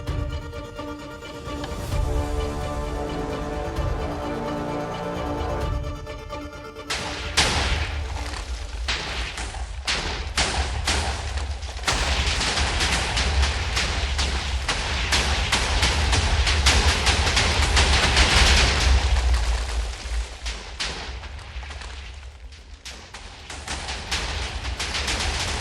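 About 1,500 primed TNT minecarts detonate in Minecraft, a long roaring chain of explosions: after a short tonal lead-in, dense rapid blasts crackle and boom continuously for nearly twenty seconds, loud and close, gradually thinning out.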